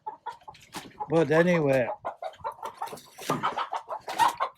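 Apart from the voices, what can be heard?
chickens clucking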